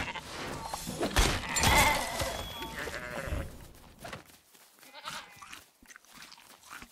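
Sheep in a video game bleat in a few wavering cries over a busy game soundscape, the calls loud near the start and fading into quieter, sparser sounds toward the end.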